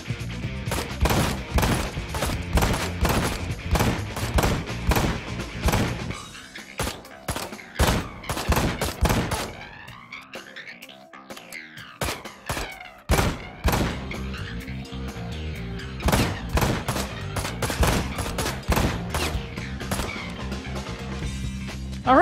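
Rapid bursts of gunfire from a shooter video game clatter in dense volleys, pause briefly in the middle, then resume as steady automatic fire with scattered single shots.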